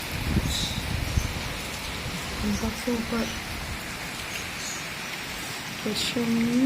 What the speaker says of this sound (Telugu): సూపర్ వర్షం వస్తుంది, గాలి వస్తుంది